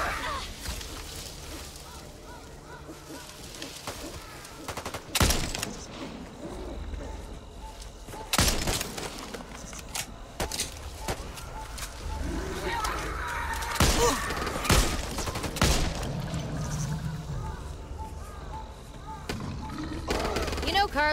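Gunfire in the video game Back 4 Blood, scattered loud shots and bursts cracking out now and then across a busy stretch of game chaos, with voices talking throughout.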